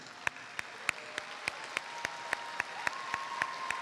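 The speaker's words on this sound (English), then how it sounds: "please join me with a round of applause honoring these excellent students" Applause at a 2022 commencement ceremony honors Scholastic Award students, a steady wash of clapping from a large seated audience with a few sharper claps standing out at an even rhythm, moderately distant and sustained throughout.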